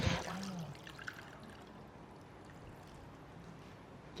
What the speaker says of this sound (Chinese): 现在我们加入多一些的清水